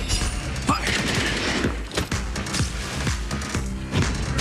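Rapid gunfire from a battle in Honkai Star Rail crackles in dense bursts of repeated sharp shots with mechanical clatter, loud and close, with a voice heard briefly.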